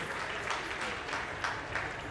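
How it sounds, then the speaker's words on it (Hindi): Applause from an audience at a live show, a steady wash of clapping at moderate volume with no voices over it. "एक बार जोरदार तालियां होनी चाहिए प्लीज"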